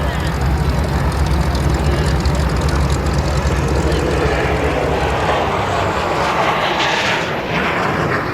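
A MiG-17 jet fighter with a VK-1 afterburning engine roars low past the crowd at the Oshkosh EAA AirVenture airshow, a loud continuous engine roar filling the whole clip, with an announcer's voice over it.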